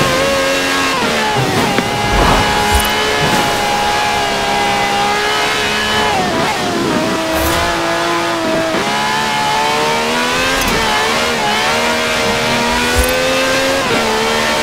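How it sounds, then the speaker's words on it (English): A V12 engine of over 750 horsepower revs and roars continuously in Forza Horizon 4, loud and close, rising and falling in pitch through gear changes with faint tire noise and no talking. "No clattery diesel engine here. This has a V12 with over 750 horsepower"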